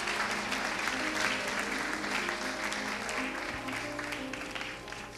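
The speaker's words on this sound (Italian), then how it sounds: "un applauso anche per lui" An audience at the Teatro Fenaroli in Lanciano applauds at a Premio Gassman award ceremony, a full, sustained round of clapping that gradually eases off toward the end, with faint tones beneath.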